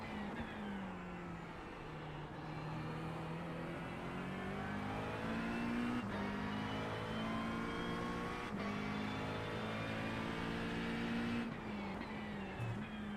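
McLaren 720S GT3 race car engine at Sebring, a loud onboard drone that rises in pitch through each gear, with abrupt upshift breaks every few seconds and a steady tire and wind roar beneath.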